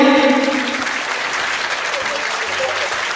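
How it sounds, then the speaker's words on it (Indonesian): An audience at a Samsung Galaxy M22 launch event in Atrium Ciputra World Mall, Surabaya, bursts into lively clapping that continues steadily, while a voice talks over the opening moment. "Boleh beri tepuk tangan yang meriah?"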